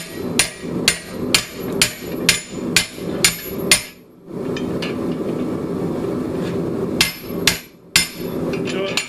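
Schedule 40 steel tubing is struck on an anvil with a chop fuller. Sharp, ringing hammer blows fall in a steady rhythm, then pause, then come as a few more scattered strikes close by.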